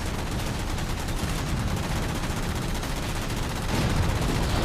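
A Wraith's heavy plasma fire pounds continuously in Halo 4 gameplay, a dense loud barrage of rapid blasts filling the whole stretch and swelling slightly toward the end, with no voices.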